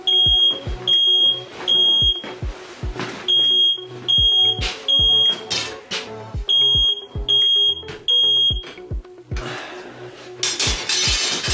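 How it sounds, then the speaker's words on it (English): A smoke alarm gives sharp, repeated high-pitched beeps in an uneven rhythm, loud and close, over metallic clinks and knocks from motorbike work nearby; nobody speaks. "Smoke alarm."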